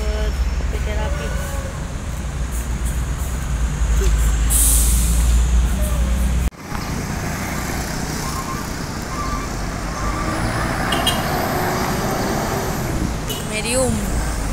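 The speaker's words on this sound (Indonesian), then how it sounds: "Oke, bus PT Rapi." Passing PT Rapi intercity bus on a road toward Medan, with a steady loud roadway rumble, a brief air-brake hiss and traffic noise throughout, while people talk over it.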